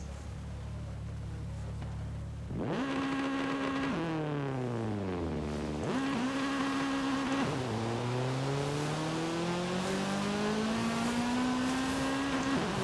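An Acura Integra in the racing video game Forza Horizon revs hard through several rising gears, its engine pitch climbing and dropping at each shift, loud and continuous with no talk over it.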